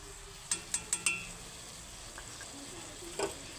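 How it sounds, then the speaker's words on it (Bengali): Ground spices, including salt, turmeric, chilli, roasted cumin and coriander powder, fry softly in oil for a goat head mutton curry, with a faint sizzle and a quick run of spoon clinks against the pan, then one more clink later. "তো আমি এখন মশলাটাকে কষিয়ে নিই"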